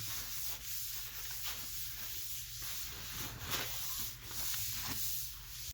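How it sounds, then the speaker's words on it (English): A steady, soft rubbing swish of a cloth wiping a garage countertop before painting, repeating in even strokes at close range with no voices. "Wipe the surface once again."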